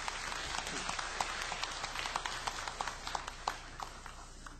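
A church congregation claps for the orchestra and Hallelujah choir at a New Year Sunday service, the applause faint and distant with scattered sharper claps rising through a steady patter.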